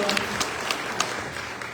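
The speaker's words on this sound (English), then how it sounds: "Round of applause, thank you." A crowd at an Oakland city rally on immigration applauds after a council member is introduced, a fairly soft, continuous spread of many hands clapping with a few sharper claps standing out.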